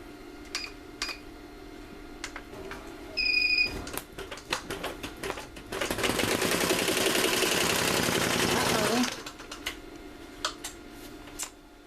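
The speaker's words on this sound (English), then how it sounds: "now I am ready to start sewing my name" A sewing machine stitching a name onto a diaper bag gives a dense, rapid mechanical chatter for a few seconds, framed by scattered clicks and taps before and after.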